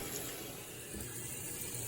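A washing machine fills with hot water at the start of a wash cycle, a steady hiss and rush of running water that continues unbroken throughout.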